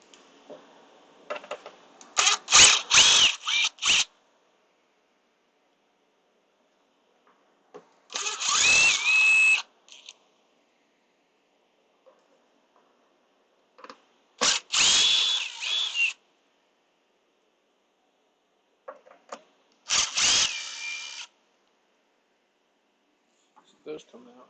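Power drill backing screws out during a live repair session, whirring in four separate bursts of a second or two each, with quiet gaps between them and short background sounds.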